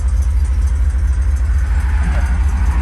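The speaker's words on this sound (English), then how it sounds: "I think she's idling nice" A car engine idles in gear after a timing adjustment, a close, steady low rumble with an even pulsing rhythm and no talk over it.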